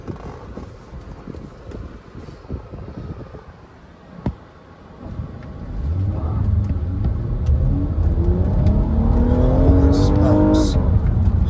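An old Dodge Charger's engine roars up and accelerates away, pitch climbing through the gears, heard muffled from inside another vehicle at an auction, with some chatter beforehand.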